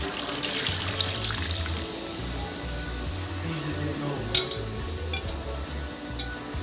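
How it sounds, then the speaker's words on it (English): Tap water runs steadily while a marinade pot is rinsed out for Jamaican stew chicken, a continuous splashing wash close by with a few sharp clinks. "Rinse this out with a little bit of water and throw it back in the pot."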